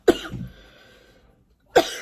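A woman gives two sharp coughs close to the microphone, about a second and a half apart, with quiet between them.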